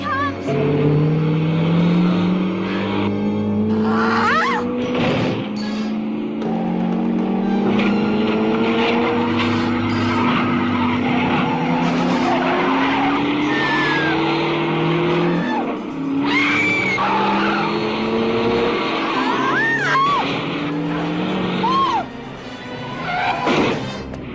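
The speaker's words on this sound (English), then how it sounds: "She hit that car." A car skids and slams into another car on a road, loud tire screeching and engine noise with a crunching impact, shouting voices mixed in, then the commotion settles briefly.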